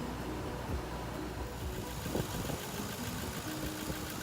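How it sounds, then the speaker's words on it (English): A car engine idles steadily right after an oil change, a low continuous rumble with faint mechanical ticking throughout, no voices. "go ahead and turn on the vehicle and check for any leaks"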